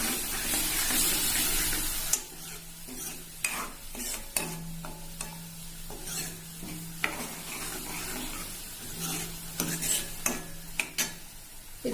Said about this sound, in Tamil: ஜார் அலசி கொஞ்சம் தண்ணி விட்டுறேன்.